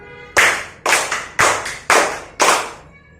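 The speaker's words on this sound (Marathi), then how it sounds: "राजा म्हणतो पाच टाळ्या वाजवा" A group of children clap five times together during a follow-the-leader classroom game at a school event. The claps are sharp, close and loud, evenly spaced about half a second apart, with nothing else between them.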